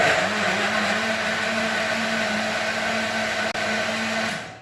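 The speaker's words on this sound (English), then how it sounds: "pop it onto your NutriBullet or whatever, your blender, and then just blend it up." A NutriBullet blender whirring through an oat and banana smoothie, a loud steady motor drone that holds for over four seconds, briefly dips, then winds down at the end.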